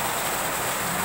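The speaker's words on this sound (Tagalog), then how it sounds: "Grabe, ang lakas ng ulan dito sa Caloocan." Heavy rain pouring in Caloocan, a dense, loud, continuous hiss of downpour with no breaks and no voices.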